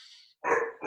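A dog barks indoors: a faint whine, then two sharp, loud barks close to the microphone in quick succession, with no talking.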